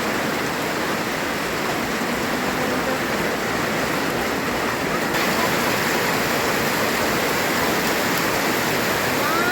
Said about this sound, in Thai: ฝนตกตอนนี้